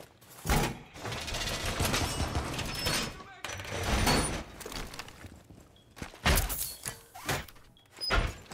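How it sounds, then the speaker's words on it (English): A wall being reinforced in Rainbow Six Siege, a series of clanking metallic thuds and scraping mechanical sounds broken by brief pauses, loud and close, with gunfire-like bangs mixed in. "Wall reinforced!"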